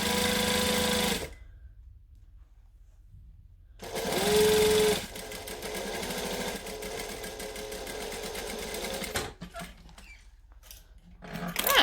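A home sewing machine stitches a Butterick B6764 garment in several bursts, each a fast buzzing mechanical whir that starts and stops abruptly, separated by quiet pauses and a longer, steadier run in the middle.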